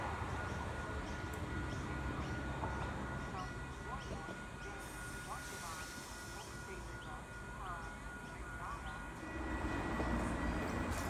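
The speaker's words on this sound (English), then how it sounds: "We should have a northbound V set passing platform number 2." A northbound V set train passing a station platform, a steady low rumble and rolling rattle of carriages running through, fairly distant and moderate, with occasional bird chirps and a brief burst of noise near the end.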